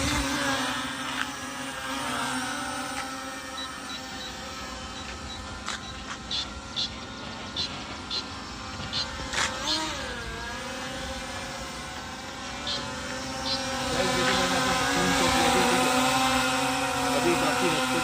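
An E99 Pro brushless camera drone flying outdoors: a steady, whining buzz of spinning rotors that shifts in pitch as it moves and swells louder near the end, with someone talking over it.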